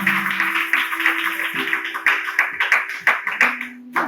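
A church congregation applauding at a prayer service, steady rhythmic clapping from a small group, close and fairly loud, with a sustained tone underneath.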